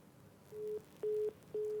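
Telephone busy tone after a phone line connection drops during a Hindi news call, with three evenly spaced steady beeps, each about a quarter second long, sounding clearly over faint line hiss.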